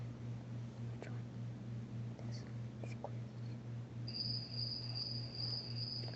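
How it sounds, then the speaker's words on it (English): Crickets chirp in a steady pulsing rhythm as a sound effect, faint and continuous, with a higher sustained chirping tone joining near the end. "That's not spiders, that's crickets."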